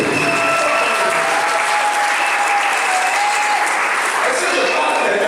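A church congregation applauds loudly and without pause, a thick, uniform roar of clapping with faint voices underneath.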